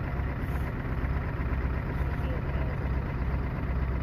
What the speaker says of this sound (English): now she's idling alright